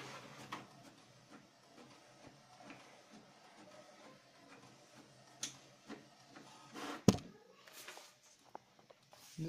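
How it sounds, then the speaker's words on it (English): An HP DeskJet Ink Advantage Ultra 4729 all-in-one printer at work, a faint mechanical run of soft ticks and whirs with a couple of louder clunks as paper feeds through, close by and otherwise quiet. "The printer can start it for the printing."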